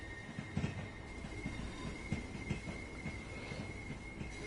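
Gatwick Express train running on the London commuter line in Train Sim World 2, with a steady rolling rumble, rhythmic wheel clicks and a faint high whine throughout.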